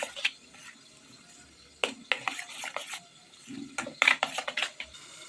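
A spoon stirs and scrapes spice paste with oil, salt and sugar in a pan or bowl for a veg paturi, giving soft irregular clinks and scraping strokes that come in quick clusters, close and fairly quiet, with no talking.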